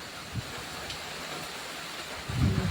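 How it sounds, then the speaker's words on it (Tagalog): Heavy rain pours down steadily in a windy, storm-like setting near plants, a soft continuous hiss with a few low rumbling gusts, fairly faint and without talk. "lakas ng ulan."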